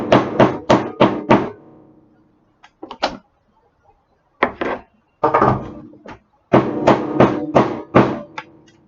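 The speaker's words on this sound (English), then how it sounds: "let's get the hammer in there again" Hammer blows on a vacuum power head during repair, landing in quick clusters of four or five sharp knocks, then a few scattered taps and another burst of rapid strikes, loud and close with no talk.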